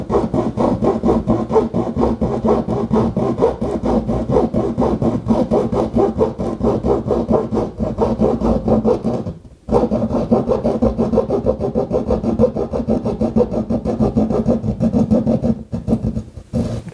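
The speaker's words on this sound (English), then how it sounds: "you can cut down with a hacksaw blade the same way you do with the drywall saw." A hacksaw blade hand-cuts downward through drywall to open a hole for an electrical outlet, with steady rhythmic rasping strokes that run loud and close, broken once by a brief pause.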